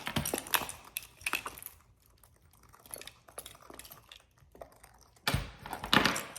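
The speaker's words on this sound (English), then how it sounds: "if I take out the key thing, which takes up a lot of the bag, and I remove the keys from it" Keys being pulled off a key holder taken out of a small Louis Vuitton Saumur BB bag: close, light metallic clicks and rattles in a quick burst, a quieter fiddly stretch, then another sharp jangling burst at the end.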